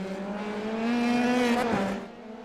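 Race cars in an iRacing F3 championship round at Zandvoort, heading into a braking zone: a steady high-pitched engine whine that swells, shifts pitch as one car slips past, then eases back, alone without talk.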